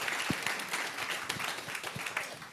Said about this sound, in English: Please, a big clap for Harish.